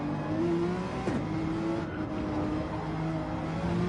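A Porsche race car engine roars steadily in a racing video game, its droning note holding high with small pitch shifts as it works through gears, loud and continuous with no voices over it.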